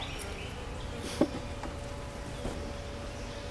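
Honeybees hum softly around an opened hive with plastic frames, a low continuous drone with a brief nearby buzz passing close.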